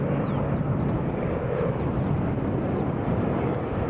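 A Logan Air ATR 72-600 turboprop airliner roars close by in a steady, loud broadband rush with a low engine rumble, constant throughout and free of talk.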